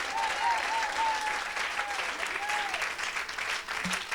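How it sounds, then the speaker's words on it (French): A church congregation at a healing service applauds in a continuous wash of clapping, with shouting voices and faint whistled or sung tones riding over it. "Acclame."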